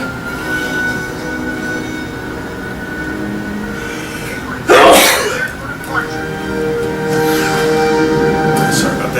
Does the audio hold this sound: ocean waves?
no